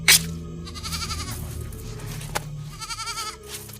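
A goat bleats several times in a night-time village setting, wavering cries rising over a steady low background hum, moderately loud and close, with no speech.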